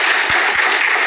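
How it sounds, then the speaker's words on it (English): A crowd at a conference applauds the speakers, a steady dense wash of clapping from many hands that fills the whole moment with a couple of sharper claps standing out near the front. "I think these guys deserve another round of applause"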